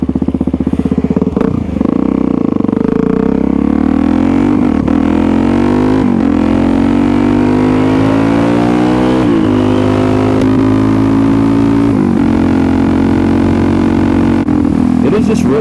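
A Suzuki DRZ400SM supermoto is kick-started, and its high-compression single-cylinder engine catches and revs up and down in loud, close bursts, with rising and falling pitch sweeps and brief dips between revs.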